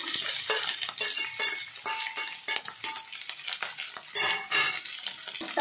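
Chopped vegetables, tomato, lentils, cumin and spices frying in oil for upma are turned in a pan, with a soft crackling sizzle and repeated spatula scrapes and clinks, close and moderately quiet with no voices.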